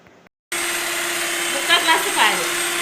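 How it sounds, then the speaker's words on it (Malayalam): An electric mixer whirs steadily while beating eggs for a homemade cake batter, a constant loud motor drone that begins after a brief pause, with a few soft voice-like bursts over it near the end. "മുട്ട നല്ലോണം ബീറ്റ് ചെയ്ത് ഏകദേശം ആയിക്കൊണ്ടിരിക്കുന്നുണ്ട്."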